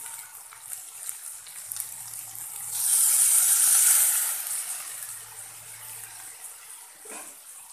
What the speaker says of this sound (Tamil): தண்ணி எவ்வளோ ஊற்றணுன்னா நம்ம அந்த காய்கறி மூழ்கிற அளவுக்கு ஊற்றிக்கலாம்.